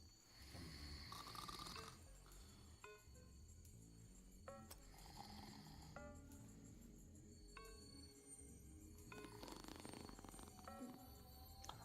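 Heavy, rattling snoring repeats in slow, steady breaths, loud and close, with no other voices present.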